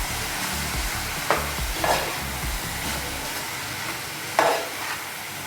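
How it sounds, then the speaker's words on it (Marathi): Turmeric and Kashmiri chili masala sautéing in hot oil makes a steady, close sizzle, broken by a few sharp spoon scrapes while being stirred, with no voices. "घालायचं आणि परतायचं की तो मसाला थोडासा शिजला पाहिजे, तेलामध्ये थोडंसं हे झालं पाहिजे।"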